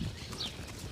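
Horse walking, its hooves clip-clopping in a steady rhythm close by, with soft background noise and no talk.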